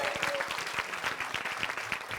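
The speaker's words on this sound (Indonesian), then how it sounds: "Tepuk tangan." A studio audience at an Indonesian comedy show claps steadily and moderately, a continuous patter of many hands with no speech over it.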